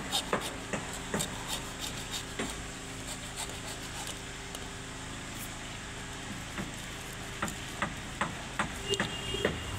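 Electrical conduit pipe being cut during rooftop house wiring, heard as steady, close scraping strokes with scattered sharp ticks and knocks over a low background hum.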